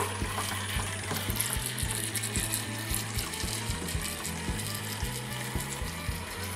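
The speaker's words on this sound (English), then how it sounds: "Maybe put just a little bit more water in there." Water pours and splashes steadily into a plastic Zuru Micro Boats toy racing track, with rapid clicking and rattling underneath, close and continuous.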